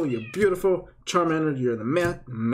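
A pet cat meows repeatedly in a room, several drawn-out, tonal cries close by, mixed with a person talking over them.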